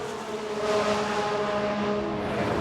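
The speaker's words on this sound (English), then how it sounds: "I think there's been a lockup." A Formula One car in the racing game F1 Manager 22, engine droning steadily with a sustained tonal squeal of a locked tyre blending into the continuous race noise, no talk.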